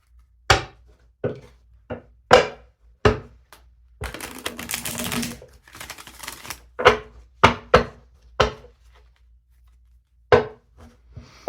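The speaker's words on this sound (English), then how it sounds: "Let's pull some tarot." Tarot cards are shuffled and drawn onto a surface, giving sharp, close taps and slaps spaced by short silences, with a dense riffling shuffle in the middle and no talking.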